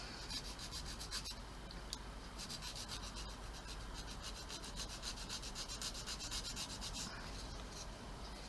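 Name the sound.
sanding a USS Missouri model part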